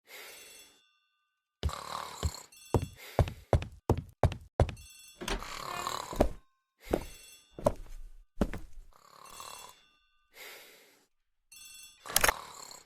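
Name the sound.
telephone ringing in a hall, radio drama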